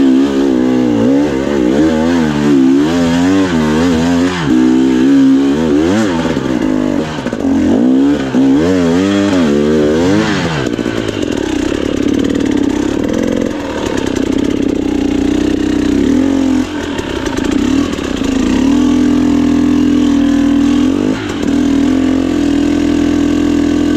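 An enduro motorcycle engine revving loudly and close on a hard hill climb at Doe Mountain, rising and falling sharply at first, then holding a steadier, throaty drone.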